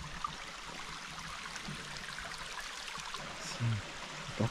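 Clear stream water after rain, running steadily over a chain of small pools along a trail in Parque de Minas, with a continuous close trickle and a few brief louder splashes near the end.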